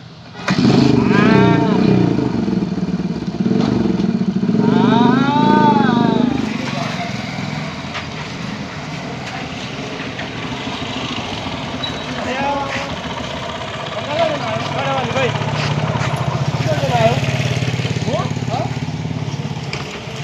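An old motorcycle engine rumbles and idles close by while people talk, with a cow lowing briefly early on.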